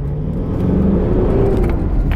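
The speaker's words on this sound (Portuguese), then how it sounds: "Veja como sobe rápido o giro ali." A Mitsubishi Pajero engine revs up steadily as it accelerates, a loud continuous drone rising in pitch from inside the vehicle, with no talking.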